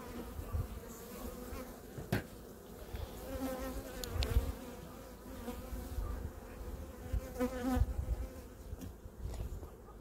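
Honey bees buzzing around the frames of a hive after winter in April, a continuous close drone of many insects with scattered knocks and fluctuating loudness.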